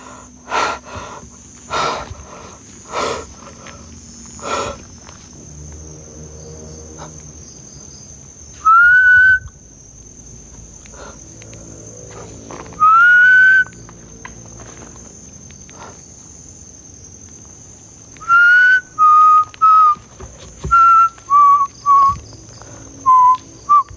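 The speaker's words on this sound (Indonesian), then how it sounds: "Gue coba pakai siulan geng ya." A person whistles at midnight at a sand mine in Banten, giving a few short rising whistle calls and then a string of repeated clear whistles, heard close over a steady night chorus of crickets and insects.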